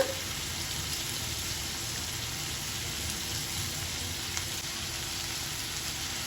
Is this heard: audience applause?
no